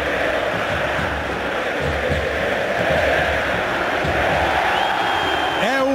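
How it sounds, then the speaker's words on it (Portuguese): Large crowd of São Paulo football supporters roaring and chanting at Morumbi stadium before the 2012 Sul-Americana final, a dense continuous wall of voices throughout, loud and steady. "O som da torcida do São Paulo desde cedo no Morumbi."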